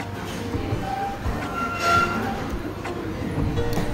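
A passing train rumbles steadily on the rails close by, with faint metallic squealing tones rising over the noise and no talking.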